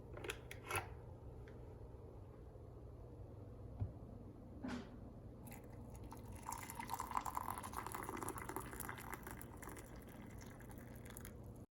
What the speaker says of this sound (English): Now that you've let your kettle boil, you'll pour it into your cup